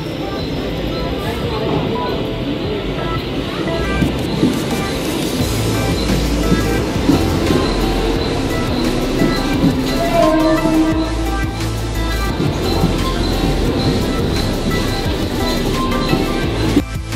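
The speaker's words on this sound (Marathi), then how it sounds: "तरी आली आपली चर्चगेट ट्रेन." Churchgate-bound Mumbai local train arriving at Malad station, a loud rumbling roar of wheels and carriages on rails that builds and holds, with station crowd noise and talk around it.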